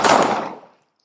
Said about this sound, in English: the 3 deputies discharge their service weapons simultaneously